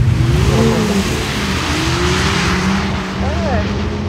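A BMW M2 drifting on a track, its engine holding a loud, steady rev that rises and falls with throttle, with tires squealing and voices talking over the car throughout.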